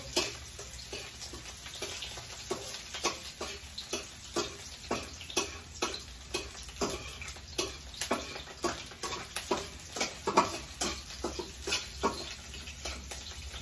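Garlic and onion frying in a pan, a faint steady sizzle broken by a regular rhythm of soft scraping strokes, about one or two per second, as the pieces are stirred up close.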